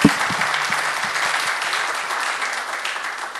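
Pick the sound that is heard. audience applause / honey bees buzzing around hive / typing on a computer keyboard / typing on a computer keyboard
audience applause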